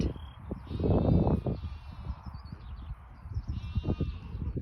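A lamb named Dexter, a straggler brought back from the lambing shed, bleats for its mother in repeated calls, near and fairly loud, amid a low rumble of movement and other sheep.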